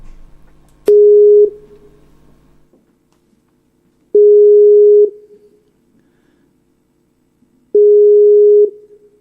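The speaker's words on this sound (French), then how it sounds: "alors je vais appeler Joël pour continuer notre soirée" A telephone line rings out while a radio show phones a caller: three clean, identical beeps of about a second each, spaced several seconds apart over quiet line hiss.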